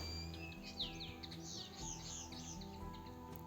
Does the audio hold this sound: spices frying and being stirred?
no